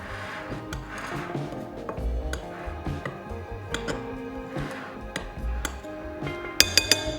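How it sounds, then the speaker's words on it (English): A spoon scrapes and clinks steadily around a bowl of dry baking ingredients, including caster sugar, with soft rubbing strokes, close by, and a few sharper taps near the end. "I'll just give that a stir."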